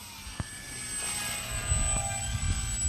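An FMS Ranger 1800 RC airplane flying in to land outdoors, a steady propeller and motor whine in the distance over wind, with a few small clicks.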